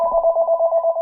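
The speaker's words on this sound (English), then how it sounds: "hear a ringing. Oh, that is me." A telephone rings in a fast electronic warble, steady and fairly loud, with nothing else heard.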